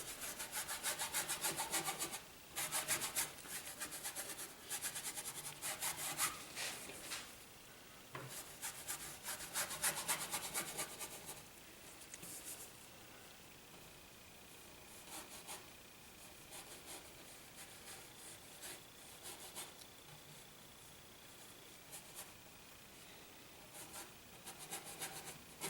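A number 6 paintbrush scrubs against canvas while painting a mountain landscape, giving close, rhythmic rough rubbing strokes that are busier early on and then turn softer and more even, with no speech.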